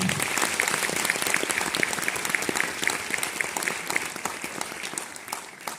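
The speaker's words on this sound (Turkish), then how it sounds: "O yüzden gerçekten ikisine de özel alkış rica ediyorum sizden." A large audience at an ODTÜ Antalya Alumni Association event tied to the International Antalya Guitar Festival applauds steadily, a dense wash of many hands clapping at an even level throughout without pause.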